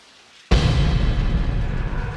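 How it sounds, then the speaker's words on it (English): A shower suddenly starts running in a bathroom in the Deadly Premonition video game: a steady, dense hiss of spraying water that bursts on after a near-silent moment and carries on loud and unbroken. "No, it's the shower."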